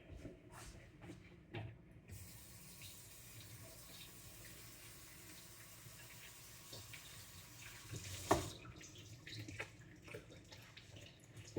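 Kitchen tap running into a sink to rinse food for a budget spaghetti meal, a quiet continuous water hiss with a few clinks and handling noises near the end.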